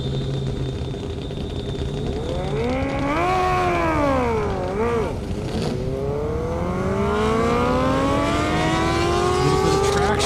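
A 2022 Honda CB 1000 motorcycle racing down an airstrip: a high engine whine climbing through the gears, with rising and dipping pitch sweeps, heard from a distance under steady crowd and commentary noise.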